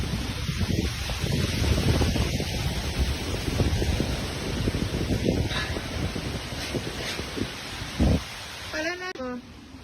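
Steady broadband wind roars against the microphone for nearly ten seconds, loud and unbroken, while a person talks over it in Thai.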